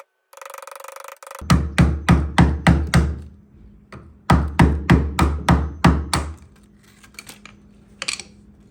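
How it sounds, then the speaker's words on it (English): A hammer strikes a 5-in-1 tool in two quick runs of about seven sharp metallic taps each, prying burlwood veneer off furniture, close and loud, followed by a faint scrape and a couple of softer knocks. "I'm just going to use my 5-in-1 tool and a hammer, and I'm just going to try to get this piece off in one long piece"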